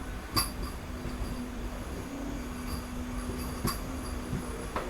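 A crowded MEMU passenger train on the Tirupati to Tiruvannamalai line rolls along with a steady low rumble and a faint tonal hum, broken by a few sharp clinks from the carriage.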